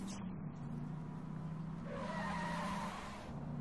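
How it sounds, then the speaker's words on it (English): A limousine drifts in Saints Row: The Third, its tires squealing in a long, sustained skid over a steady engine drone, loud and continuous for several seconds. "It's weird drifting in a fucking limo"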